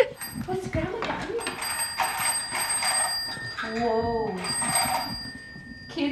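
A telephone bell rings in repeated bursts with a sustained metallic tone, while people talk and exclaim over it nearby.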